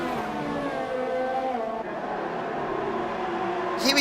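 A McLaren race car in a racing video game at the Hungarian Grand Prix, its engine holding a steady, high harmonic whine through a corner before a short burst of noise near the end.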